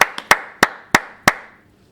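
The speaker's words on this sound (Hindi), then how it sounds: "एक बार फिर से गोल्ड मेडल के लिए तालियां हैं" Five sharp hand claps, evenly spaced and close, from someone applauding a weightlifting gold medal at the Commonwealth Games, each clap ringing briefly before fading, with no talk.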